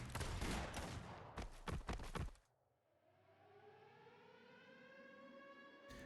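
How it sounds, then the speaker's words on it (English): A civil defense siren wails in an enemy camp in the Arknights video game, rising and holding steady after a burst of gunfire, loud and sustained with no talk. "The sirens start blaring in the sarcasm camp the moment the patrol goes down."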